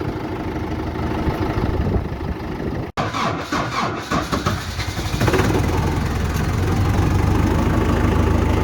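Tractor engine cold-starting at minus 20 degrees: rough, loud cranking, a brief cut, then the engine catches and settles into a steady, heavy running rumble, with no talking.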